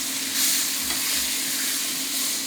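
Steaks sizzle in a hot skillet with a steady, bright hiss and faint crackle, continuous and close, with no one speaking.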